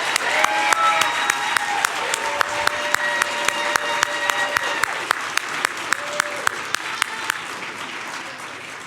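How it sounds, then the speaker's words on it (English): Sustained applause from an audience at a Chicago MLK Jr. oratory competition, steady dense clapping for about nine seconds with sharp individual claps popping out on top and a few voices murmuring underneath. "Can we get a round of applause just for everyone who came up here this morning?"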